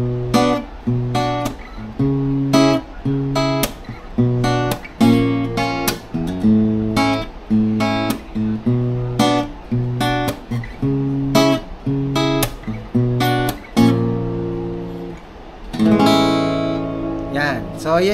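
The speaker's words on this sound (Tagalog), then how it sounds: "yan yung tunog ng Prestige na gitara ng RJ Guitar" RJ Guitar Prestige acoustic guitar plucked fingerstyle, a steady run of picked notes and arpeggiated chords ringing close and clear, with a brief strummed flourish near the end and no talking.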